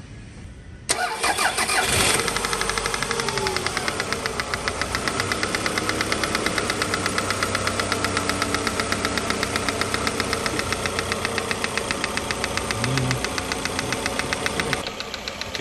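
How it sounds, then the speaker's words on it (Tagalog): A Toyota RAV4 engine cranks and catches, then idles with a rapid, steady metallic knocking ticking throughout, close and loud, running on oil of the wrong viscosity; no voices. "Ipaparinig ko lang sa inyo yung tunog ng makina nito."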